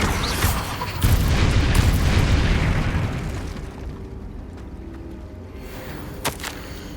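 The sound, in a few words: explosion from Bombarda spell in Hogwarts Legacy video game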